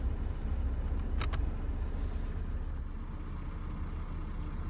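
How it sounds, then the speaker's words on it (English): A 2014 Ford Fiesta engine idles with a low, steady rumble, joined by a couple of brief sharp clicks partway through, with no talking. "my car is running, 2014 Ford Fiesta"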